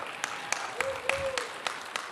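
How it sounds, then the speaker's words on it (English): Light, sparse applause at a technology institute graduation and pinning ceremony: a few distinct claps ring out at a fairly regular pace under a faint steady tone in a quiet hall. "Give them a big round of applause."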